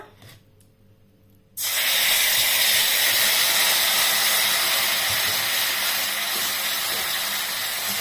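Marinated paneer hits a hot, salted kadai with a sudden loud, steady sizzle that bursts in after a short quiet moment and hisses on without letup, close and alone with no talk.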